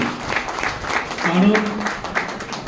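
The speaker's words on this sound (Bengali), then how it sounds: "সবাই জোরে হাততালি দেবেন সবাই" Clapping from a group at the Gandhi Seva Sangha cancer hospice in Kolkata, moderate applause under a speaking voice throughout.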